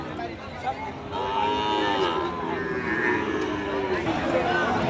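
Cattle, including Sahiwal, moo with long, wavering lows amid a busy outdoor livestock market crowd, people chattering close by throughout.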